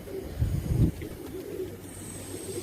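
Pigeons on a rooftop loft give a low, soft cooing burst near the start, then quieter murmuring coos trail off alongside faint background hum.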